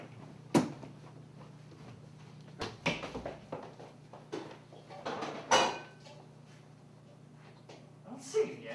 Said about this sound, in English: What are you doing with that frying pan?